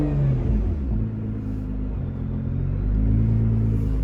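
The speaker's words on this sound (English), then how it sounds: "As you guys can hear, it's got a really nice exhaust note." Nissan GT-R running at idle, a deep, steady exhaust rumble close by with slight rises and dips in pitch and level, no voices.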